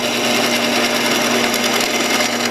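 A wood lathe gouge roughing out the inside of a spinning natural-edge bowl, a loud, continuous close-up hiss and hum of cutting with a steady motor drone underneath.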